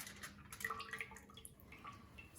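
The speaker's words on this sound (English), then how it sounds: "See how that water just kind of drips off of it?" Water dripping off wet tinfoil, with faint, close, scattered drips and light trickling that carry on through a quiet stretch.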